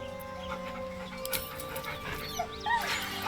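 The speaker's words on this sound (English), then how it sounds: "The dog whimpers nervously" A dog in Baldur's Gate 3 whimpers nervously beside a corpse, soft panting and thin high whines layered over a game ambience with a low steady hum.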